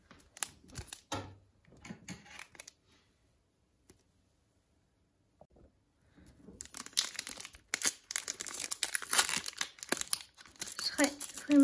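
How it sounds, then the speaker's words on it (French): A Pokémon card booster pack wrapper is crinkled and torn open close by, a loud burst of rustling after a quiet pause, with a voice talking earlier. "Le booster. Alors, il est très épais. On va l'ouvrir."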